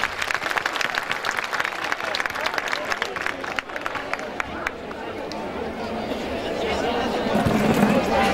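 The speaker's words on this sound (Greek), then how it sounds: "Ένα μεγάλο χειροκρότημα." Outdoor summer event audience in Didymoteicho clapping, brisk and fairly close for several seconds, then fading into murmuring crowd chatter and a low hum as the claps die away.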